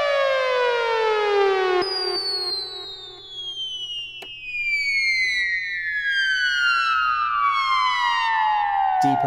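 Arturia EMS Synthi V synthesizer preset plays long sustained tones that sweep steadily downward in pitch, bright and buzzy, with aftertouch modulating the filter; no other sounds.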